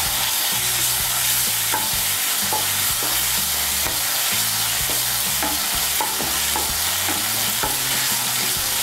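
Green chili paste, made from four or five ground green chilies, is stirred and fried in a pan for a cabbage kofta curry. A loud, continuous sizzle runs under rhythmic scraping strokes of a spoon, with no voices.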